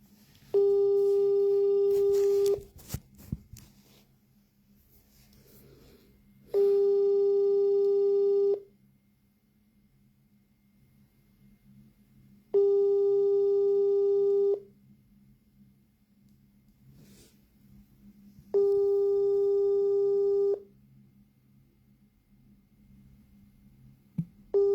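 Telephone call tone that never rings through: four evenly spaced, steady two-second tone bursts separated by pauses of about four seconds, each bursting clearly over a faint low hum.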